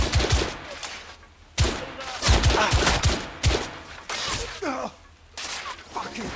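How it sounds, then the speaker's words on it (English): Gunfire in the video game The Order 1886, rapid bursts of shots in several separate volleys, loud and close, mixed with shouted voices during combat. "I'm taking suppressing fire! You need cover fire!"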